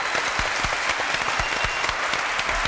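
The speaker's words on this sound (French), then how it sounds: "Applaudissements pour cette jeune fille" Dense, steady applause from a TV studio audience for a young woman on a French talk show, many hands clapping together for nearly three seconds without a break.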